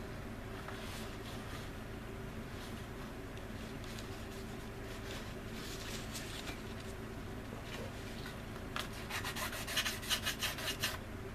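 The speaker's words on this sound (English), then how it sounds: "using the finest grit there is, and sand the leading edge of this wing" Fine-grit file board sanding the leading edge of a plastic model wing on an Anigrand C-124 Globemaster kit, a steady soft rasping rub with a brisker run of strokes near the end over faint background noise.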